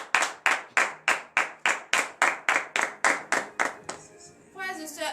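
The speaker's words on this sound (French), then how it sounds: "nous allons nous lever et donner de vives acclamations à l'Éternel" A church congregation at morning prayer claps in a steady, even rhythm, about a dozen loud synchronized claps close by, then the clapping gives way to singing or voices near the end.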